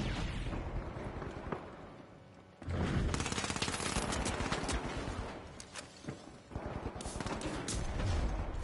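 Turret gunfire in a first-person shooter video game blasts in rapid, sustained bursts, loud and close, with a brief lull before the firing resumes and continues to the end.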